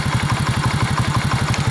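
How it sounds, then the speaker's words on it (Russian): A 13-year-old Delta moped engine runs close up in winter with its choke raised, a fast, even, thumping single-cylinder putter that sounds rough and uneven. "Если сейчас подсос я подниму, мопед будет чуть-чуть глохнуть,"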